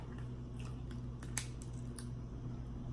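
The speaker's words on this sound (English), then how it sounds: "These some big scissors, ain't it, y'all?" Big kitchen scissors cutting through seafood at a meal, giving a few crisp snips and crunches over a steady low room hum.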